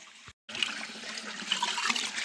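Water gushes from a rural tubewell in a steady, close, hissing stream after a brief cutoff at the start, continuous and fairly loud with no talk.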